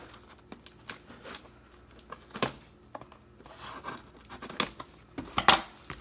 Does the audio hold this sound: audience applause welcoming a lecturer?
no